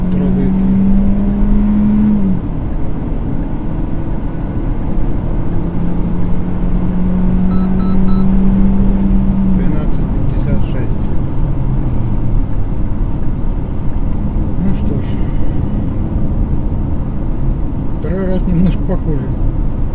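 A Hyundai Creta pulls away from a two-pedal launch start, its engine droning loudly and steadily rising through the run with road rumble inside the cabin, and a voice talks briefly over it.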